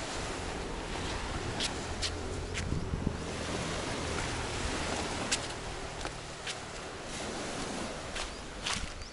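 Steady wash of sea waves on the beach at Miami Bay, Penang, a continuous broad surf rumble mixed with wind noise and a few faint clicks.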